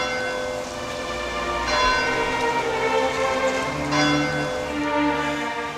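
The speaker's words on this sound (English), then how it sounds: "The bells are tolling in Weatherfield." Church bells toll for a wedding in Weatherfield, two or three loud resonant strikes with long ringing overtones that overlap and fade between hits.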